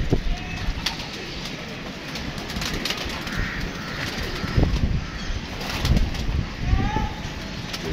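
Pigeons coo and flutter in a rooftop setting, soft repeated calls and occasional wing flaps at close to moderate distance, with people talking throughout.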